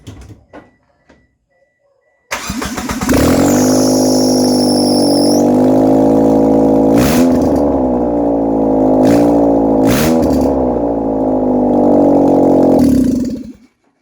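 A turbocharged Mitsubishi Eclipse engine fires up after a quiet start and holds a loud, steady rev with rich harmonics, with a few sharp bursts along the way before cutting off near the end.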